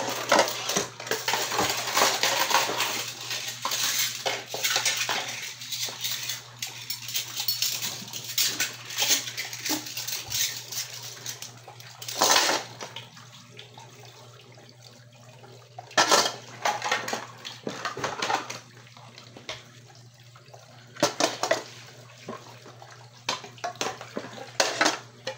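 Dishes and cutlery being washed under running water at a home sink: a steady gush of water with frequent clinks and clatters of plates and utensils throughout, no talk.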